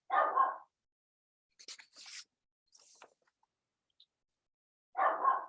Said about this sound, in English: My dog has decided something interesting is happening.